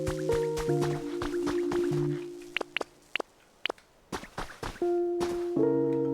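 Watering withered plants in the video game Pokopia: short drips and squishy liquid splashes over a looping game melody with tonal chimes, a few sharp droplet clicks standing out in a quieter middle stretch.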